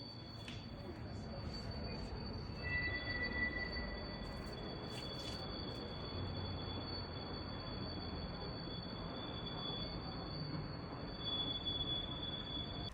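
Freight trains braking near a residential complex by Magnolia Park in Wrocław, with a steady high-pitched wheel squeal running over a constant low rumble of rolling rail cars throughout.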